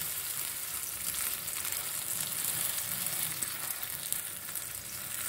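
Egg-coated roti frying in a little white oil in a pan, giving a steady, close sizzle that holds even throughout with no talking.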